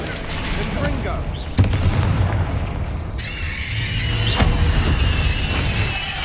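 Confringo fire spell blasts in the video game Hogwarts Legacy, with deep booming impacts over a continuous rumbling game soundscape and one sharp hit near the middle.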